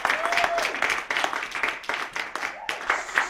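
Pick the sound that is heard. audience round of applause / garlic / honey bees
audience round of applause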